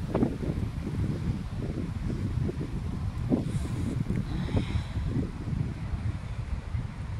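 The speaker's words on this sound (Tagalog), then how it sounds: "Windy siya guys." Wind buffets the microphone outdoors in a steady, broad rush that runs the whole time, with gusty low-end rumble and faint background sounds but no talk.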